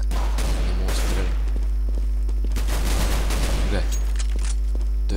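Rapid bursts of automatic gunfire sprayed in the Overwatch video game, loud and dense, with several clustered volleys over a steady low background hum.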